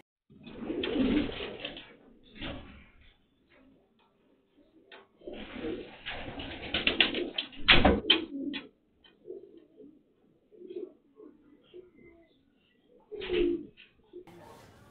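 Racing pigeons cooing at a loft, with repeated low murmuring coos in clustered bursts, fairly close, alternating with short quiet gaps.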